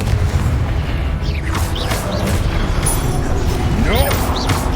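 A Confringo fire-blast spell bursts during combat in the video game Hogwarts Legacy, a loud, dense wash of booming impacts and rising, whooshing magical sweeps that never lets up, with faint voices mixed into the steady battle noise.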